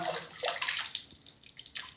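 Clear water flows and splashes from a natural rock cleft at the historic Pabhargad fort, a close, bubbling, uneven trickle with no talk.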